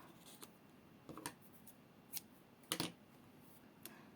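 Scissors snip through yarn after a crocheted baby hat is finished, giving a few faint, sharp clicks scattered through a quiet room.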